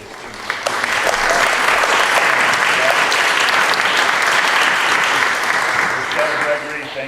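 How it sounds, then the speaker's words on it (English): At a community mural event, the crowd breaks into loud, sustained applause for the mural artists, dense clapping that swells quickly and holds steady for several seconds before starting to thin out at the end. "I think they deserve a round of applause."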